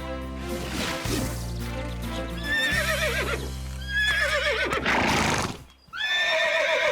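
A cartoon horse neighs loudly several times, long shrill whinnies over a steady musical backdrop, with hooves clip-clopping and a brief drop near the end.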